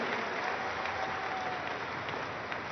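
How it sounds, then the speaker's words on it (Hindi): A large audience at an international Arya Samaj convention in Delhi claps steadily in a dense, even wash of applause that holds throughout at moderate volume. "एक बार जोरदार तालियों द्वारा इसका अभिनंदन आप सब लोग करें"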